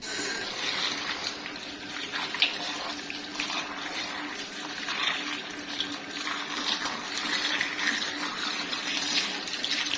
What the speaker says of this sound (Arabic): هنغسل الطماطم